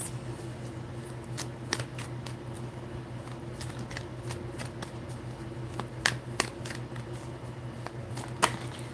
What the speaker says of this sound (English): let me shuffle and see what else.